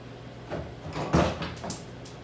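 A car door being unbolted and pulled off its hinges during a paint job: several metallic clunks and scrapes, the loudest in the middle and a sharp knock near the end, fairly close in a quiet garage.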